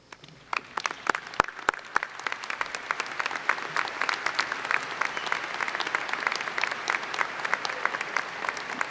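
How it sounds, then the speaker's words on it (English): A high school graduation audience applauds the teachers and staff, starting with a few scattered claps and building into sustained, dense clapping from a large crowd in an open hall. "join me in giving a round of applause for our teachers and"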